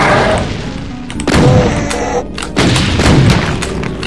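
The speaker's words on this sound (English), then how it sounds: "then you can kind of, like, step back and let the rockets hit them" Rocket explosions in the video game Doom 2 boom loudly several times, heavy blasts with rumbling tails and sharp impact cracks, close and alone without talk.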